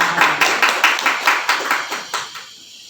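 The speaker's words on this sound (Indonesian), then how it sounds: "Tepuk tangan buat teman kalian." A class of schoolchildren claps for a classmate: about a dozen close, evenly spaced hand claps in a quick rhythm, fading out after a couple of seconds.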